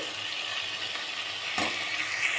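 Onions and green chillies with turmeric sizzle steadily in a hot pan, a constant close crackling hiss with one brief louder burst.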